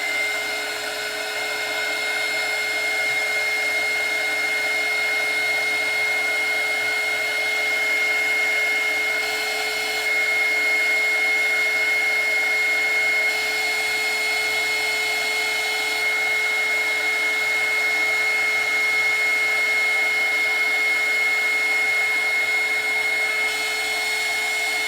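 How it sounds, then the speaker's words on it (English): A heat gun blows hot air onto freshly dabbed paint, a steady loud whine and rush of airflow running unbroken from start to finish with no talk. "let's hit it with the heat gun."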